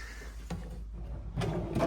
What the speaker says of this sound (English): We've got a luggage rack right here, which actually rolls out like this.